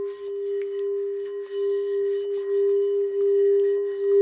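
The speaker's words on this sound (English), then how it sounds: "Listen to the tones of the crystal singing bowl here" A crystal singing bowl rings with one sustained, pure tone that swells gently, with faint overtones and soft background clicks.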